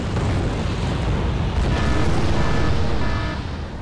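An artillery strike in Wargame AirLand Battle booms out as a dense, rumbling explosion with a heavy low end, sustained and loud for several seconds before slowly easing off.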